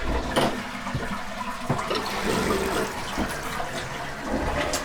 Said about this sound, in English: I come up here and I flush this toilet